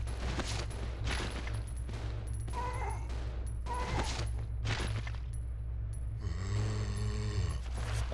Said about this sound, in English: Just shoot him with the handgun.